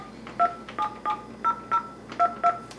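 Touch-tone keypad on a Panasonic KX-DT543 office phone dialing a number, eight distinct dual-tone beeps in an uneven rhythm, clear and close with no talking.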